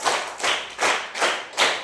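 Five sharp hand claps in a steady, evenly spaced rhythm, each a crisp close slap with a short decay, in a counted clapping exercise during an Indonesian class.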